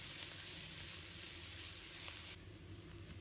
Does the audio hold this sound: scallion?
yes